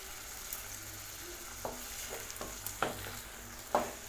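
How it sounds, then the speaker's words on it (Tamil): Tomatoes sautéing with salt in a pan: a soft, continuous sizzle with occasional scraping stirs and light clicks of a utensil, fairly quiet and close. "தக்காளி நல்லா வதக்கிக்கலாம்"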